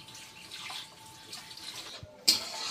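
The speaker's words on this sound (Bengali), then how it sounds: "তো এবার জল ঢেলে দেবো।" Water is poured into a pot of boiled lentils, a soft running hiss that swells suddenly into a louder splashing pour near the end.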